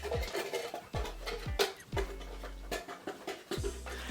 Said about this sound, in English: if you hear any rustling, by the way, it's my dog just licking leftover yogurt pots.